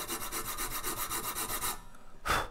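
Abrasive sanding of a guitar fret slot in wood, a close rhythmic back-and-forth rasp for about two seconds, then a short louder scrape at the end.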